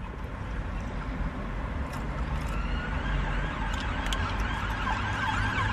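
A faint siren wails in the distance, rising and falling over low rumbling traffic noise.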